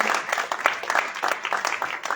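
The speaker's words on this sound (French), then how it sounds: "On peut applaudir Freedom" A crowd applauds, dense clapping that fills the space steadily, with a few voices mixed in beneath.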